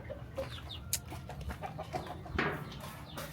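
Chickens cluck nearby in scattered short calls, with a few sharper squawks rising above a low background murmur.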